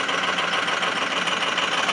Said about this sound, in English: Injector number 1 and 5 are misfiring